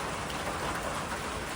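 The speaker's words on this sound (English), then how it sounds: "the skies opened up and it started pouring with thunderstorms" Heavy rain pours steadily during a thunderstorm on the Appalachian Trail, a dense, even hiss of drops close by with no thunder clap or talking in this short stretch.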